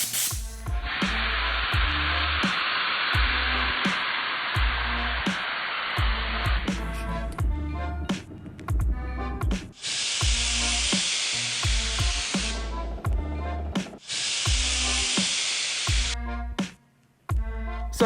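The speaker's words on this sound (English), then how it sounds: "This button right here takes the airflow and releases it through the bottom of the gun" Pneumatic air gun venting its airflow out through the bottom, producing loud broadband hissing bursts, one long blast followed by two shorter ones, with a rhythmic mechanical thumping running beneath.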